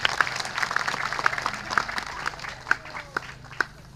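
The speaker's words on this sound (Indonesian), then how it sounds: "Oke, tepuk tangan dulu untuk semua." A crowd at a school scouting camp morning gathering claps together in a spread-out burst of applause, moderately distant with sharp individual claps standing out.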